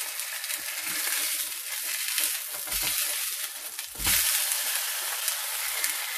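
Chicken burger patties frying in oil in a pan give a steady, close sizzle with crackling spits and a couple of louder bursts as they are moved, no talk over it.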